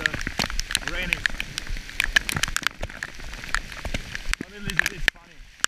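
Heavy rain pours down during a thunderstorm, a dense steady hiss of drops with sharp spattering hits, while a voice talks over it and the rain drops away near the end.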